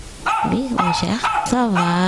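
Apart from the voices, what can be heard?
dog barking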